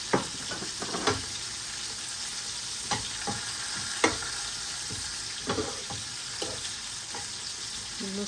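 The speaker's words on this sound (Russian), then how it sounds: "Немножко лучок пережарила" Onion fries in a pan for a hake gravy, a steady soft sizzle with scattered stirring scrapes and clicks close by.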